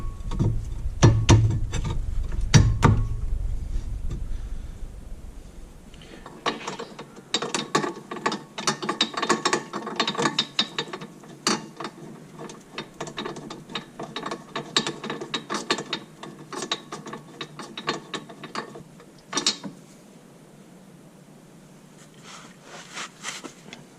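Ratchet clicking as a rear brake caliper is refitted on a 2003-2006 Mini Cooper S, a long run of dense rapid pawl clicks in bursts, close and loud, alone with no talk.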